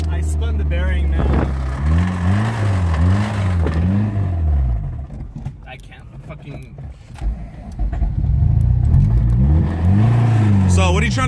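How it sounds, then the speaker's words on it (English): An EM2 car with a D17 engine and a spun bearing has a knocking rod as it revs up and down in repeated rising and falling sweeps. Loud and close, with people talking over it. "Shoot, I can hear that thing a mile away. Rod knocking everywhere."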